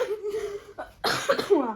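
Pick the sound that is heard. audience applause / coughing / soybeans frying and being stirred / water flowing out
coughing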